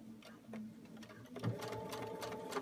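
A sewing machine stitches along the angled tie end, a steady mechanical whir with rapid needle ticks that starts mid-clip and runs close and continuous with no talking.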